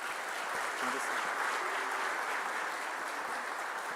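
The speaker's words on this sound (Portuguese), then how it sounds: "Vamos aplaudir Jesus," A church congregation applauds steadily and densely for several seconds during a celebration service, with the clapping filling the room at an even loudness.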